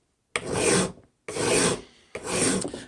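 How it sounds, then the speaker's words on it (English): Three slow, even rasping strokes of a sanding stick pushed forward across a wood edge, close and distinct, separated by brief pauses. "if you just push forward with your sanding stick"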